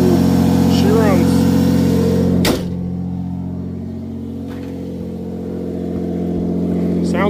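Engine of a Toyota Supra with a straight-piped exhaust running with a loud, steady low drone that dips briefly partway through, close to the microphone.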